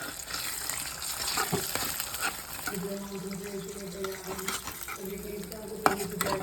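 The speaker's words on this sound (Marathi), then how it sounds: "त्याच्यात मी अंडे टाकले त्याच्यावरती मी टाकते थोडंसं मीठ" Salted eggs cooking in a pan, sizzling under steady stirring and breaking scrapes, with a sharp knock near the end and some speech in the background.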